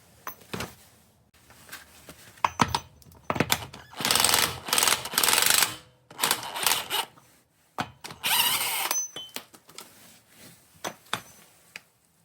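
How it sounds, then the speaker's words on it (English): A half-inch impact wrench hammers in loud bursts on a CV axle nut of a Subaru Forester, several rattling runs separated by pauses, with no talk. "we take a half-inch impact to it"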